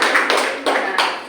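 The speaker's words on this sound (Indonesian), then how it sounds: "Ya, beri tepuk tangan untuk kelompok 2." A classroom of students claps for a student group, a short burst of brisk, fairly close hand claps in a few quick pulses.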